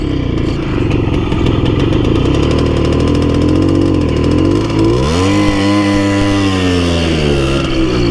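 A Simson S51 moped engine revs hard while being ridden, a loud, continuous two-stroke drone whose pitch dips and then climbs steeply as it winds up again, with no voices over it.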